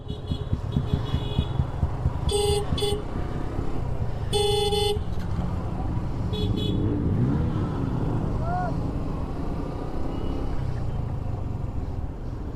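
Busy, fast road traffic passes steadily with engine rumble, several sharp car horn honks, and voices talking faintly in the background.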